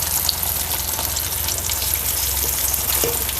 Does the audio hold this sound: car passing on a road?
no